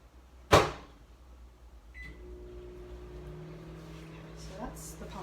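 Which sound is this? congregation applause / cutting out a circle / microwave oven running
microwave oven running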